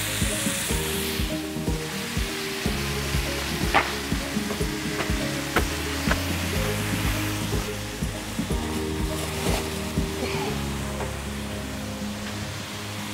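Beef fillets sear on a grill pan set over the stove rails, with no oil added, giving a steady loud sizzle close up, dotted with sharp crackles and pops throughout.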